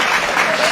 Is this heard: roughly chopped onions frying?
no